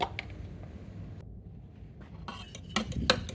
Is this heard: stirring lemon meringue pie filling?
yes